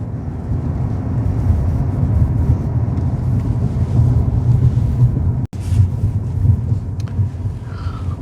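A car drives along a road through a Snowdonia valley during Storm Bert, giving a steady low rumble of engine and road noise with one brief dropout before the drone resumes.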